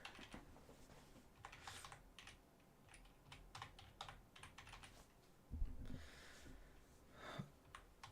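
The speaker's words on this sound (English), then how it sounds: "my microphone is quite near my near my keyboard" Computer keyboard typing close to the microphone, a steady run of quick clicky keystrokes with brief pauses and a couple of louder thumps near the end, alone without talk.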